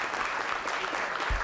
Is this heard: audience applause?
yes